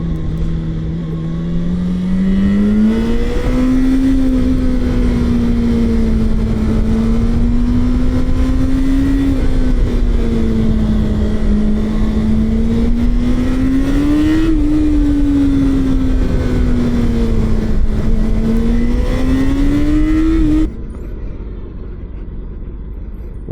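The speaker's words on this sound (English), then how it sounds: "Tunnel exhaust." A Cayenne's exhaust drones and revs inside a tunnel, its loud engine note rising and falling for about twenty seconds and echoing off the walls, then dropping to a quieter cruising rumble.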